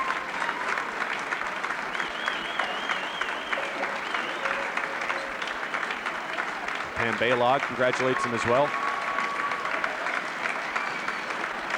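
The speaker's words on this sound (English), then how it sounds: "And he gets a standing ovation from the crowd." A high school gym crowd at a girls' basketball game applauds continuously in a standing ovation, a steady broad roar of clapping while an announcer talks over it and a few whistles or cheers rise midway.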